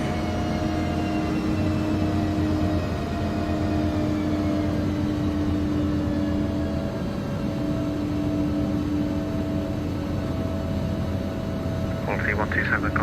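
Embraer 145 jet engines in a flight simulator, a steady loud drone with tonal whine that slowly eases as the throttles come back, with a brief rattle near the end and speech over it.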